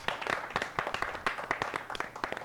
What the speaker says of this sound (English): Big round of applause for Jordan.